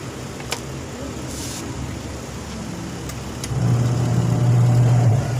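Once plugged in, a pulsator washing machine's motor starts humming. Its steady low drone swells noticeably partway through over faint background noise, with a few light clicks early on.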